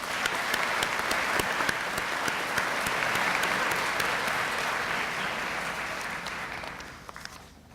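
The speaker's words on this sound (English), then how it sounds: "Please, let's give them a round of applause" An audience at a spring commencement ceremony claps for scholarship supporters, a steady dense wash of applause that gradually fades and ends in a few scattered claps.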